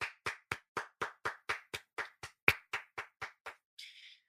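Studio audience clapping for a game winner, about fifteen crisp, evenly spaced claps in a steady rhythm, close and alone, ending with a short softer rustle.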